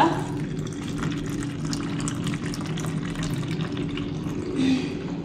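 Steady rush of water running from a tap, continuous and close, with faint handling sounds mixed in.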